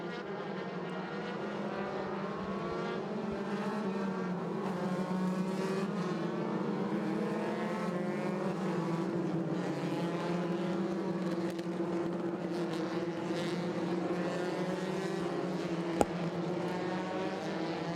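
Race cars circling Road America at pace car speed, a continuous droning engine hum at moderate distance that stays level throughout, with a brief sharp click near the end.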